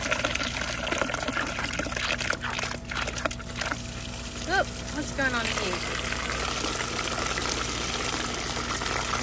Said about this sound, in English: And I'll top it up. Tap water.